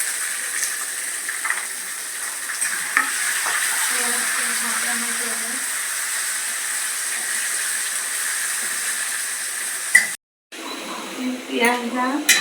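Onions sizzle steadily in hot oil with cumin, cloves, cinnamon, black pepper and star anise, a continuous close frying hiss while a voice talks over it.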